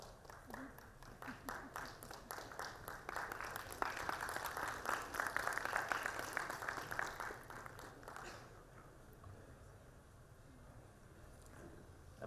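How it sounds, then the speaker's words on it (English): An audience at a corporate presentation applauds the Bry-Air Asia CEO, a steady faint clapping that builds, holds for several seconds, then fades out into quiet room tone. "A big round of applause again, ladies and gentlemen."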